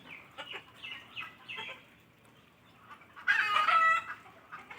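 A small hen clucks near her freshly laid eggs in a series of soft, close clucks, then gives one louder, longer squawking call before quieter clucking resumes.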